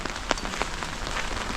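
Light rain patters steadily on surfaces on a river cruise ship, a broad even hiss with a few louder drops standing out, no voices.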